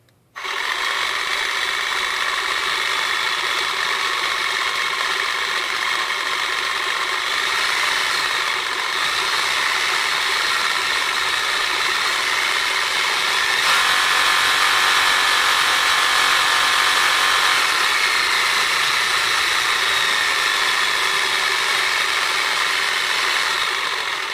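A Hart 20 volt cordless reciprocating saw runs steadily with no cutting, its motor whine and rapid blade vibration holding a dense buzzing tone that shifts slightly as the speed changes.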